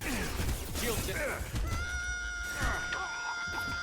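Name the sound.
woman screaming in the video game Mass Effect 2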